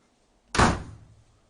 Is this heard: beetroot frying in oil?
no